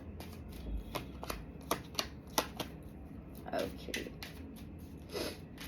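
Tarot cards are shuffled in a fast, papery flutter of repeated riffling bursts, heard close and fairly quiet with a person talking softly over them.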